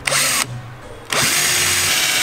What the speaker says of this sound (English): followed through the speaker mounting holes with the drill bit